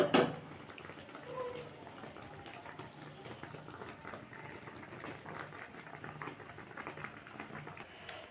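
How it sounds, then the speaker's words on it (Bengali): Faint liquid sloshing and bubbling as prawn-head pakoda sour curry is poured from the pan into a bowl, quiet and continuous. "আমি এবার বাটিতে ঢেলে দেবো"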